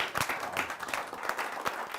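An audience at a Hindi poetry gathering applauds to welcome a poet, scattered moderate clapping at a fairly low level, fading in and out across the short stretch.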